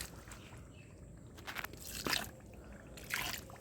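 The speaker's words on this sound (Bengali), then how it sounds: "জল দিয়ে দেবো।" Water is poured onto soil around a freshly planted pink gerbera, set in cow-dung manure. Soft splashes and trickles come in a few short bursts, close and quiet.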